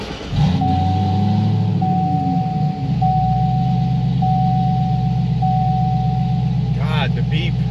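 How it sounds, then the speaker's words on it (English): The startup chime of a car with an aftermarket head unit, apparently a C6 with a cam-only LS3, rings as a loud, steady, high ding repeated in long pulses over a deep idling engine rumble. "the initial beep when you start the car, like that ding, I guess you could call it, is fucking insanely loud"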